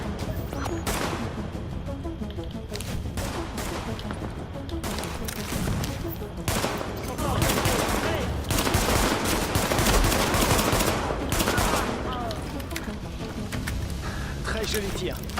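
Rapid gunfire from The Division video game, dense bursts of automatic and single shots crackling continuously and loudly, with players talking over it.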